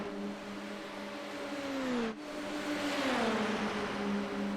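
Formula racing cars at Spa in a racing video game whine past with steady engine tones that shift pitch, one fading out as another rises and drops in a passing sweep.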